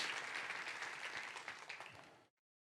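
Quiet, dense applause from a church congregation, holding steady for about two seconds, then cutting off abruptly into silence.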